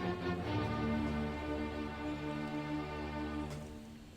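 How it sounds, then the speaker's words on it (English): Orchestral music with sustained harmonic tones and strings, loud and steady throughout, presented as the opening eight notes of Beethoven's Fifth Symphony, with no talking. "these 8 notes are the first 8 notes of Beethoven's Fifth Symphony."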